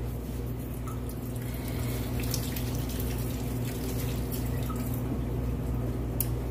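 Running tap water pours steadily into a sink while hands are washed under it, a close, continuous splashing hiss that holds even from start to finish with no talking.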